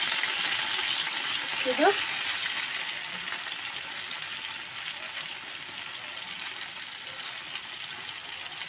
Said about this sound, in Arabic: هنزل بشويه خل، شويه خل صغيرين كده، وهقلب برضه كده في الخل